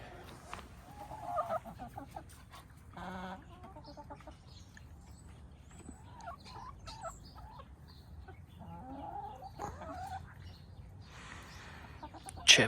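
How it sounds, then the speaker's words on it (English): A backyard flock of chickens near a coop clucks intermittently, with short scattered calls coming and going over quiet outdoor background and a sharper sound right at the end. "Here's his chickens."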